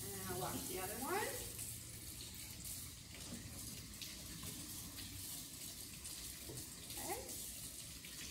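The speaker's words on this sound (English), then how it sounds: "then I'm going to just rinse off my carrots" Tap water runs into a kitchen sink as carrots are rinsed, a continuous splashing wash with a few sliding squeaks and knocks over it, while a person speaks briefly.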